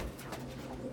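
Pigeons or doves cooing softly outdoors, a few low rounded calls over a quiet steady background with no talking.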